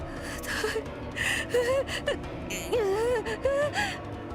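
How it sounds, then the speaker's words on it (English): A visual novel character with ruptured lungs wheezes and gasps in strained, wavering, moaning breaths, repeated several times at close range with no other voices. "The person who grabbed my leg was wheezing in a way that I could hardly identify as human breathing."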